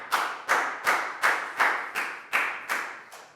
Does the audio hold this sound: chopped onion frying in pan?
no